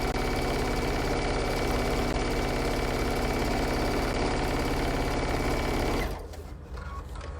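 A sewing machine hems a fabric bunny bag, running fast and steady with a dense mechanical whir up close before slowing and stopping near the end.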